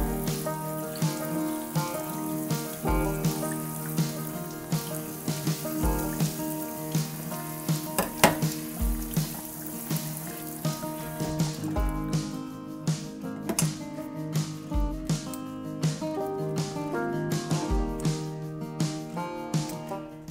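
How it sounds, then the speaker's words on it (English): Tap water runs steadily over the roots of a house plant with root rot in a sink, making a continuous splashing rush with a faint musical tone in the background. "So I'm going to take both of these to the sink and give them a really thorough rinse off."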